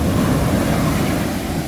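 Loud, continuous roar of surf and big waves crashing nearby on the coast of Aurora, Philippines, a dense wash of noise with no pauses.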